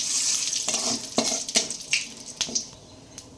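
Cumin and a bay leaf sizzle in hot oil in a wok, with a short burst of frying crackle and several sharp pops and scrapes fading over a few seconds.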